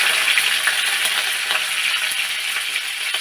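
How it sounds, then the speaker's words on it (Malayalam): Curry leaves and mustard seeds sizzle in hot oil for a drumstick thoran, making a steady, close, dense crackle with small pops throughout and no talking. "അപ്പം കറിവേപ്പില ഇട്ട്"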